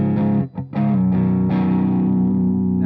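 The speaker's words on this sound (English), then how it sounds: "That's why I didn't want it to full distortion, because that's a pretty dense chord" An electric guitar rings out with a thick, dense, lightly distorted chord, briefly choked twice, then sustained with a steady, full tone.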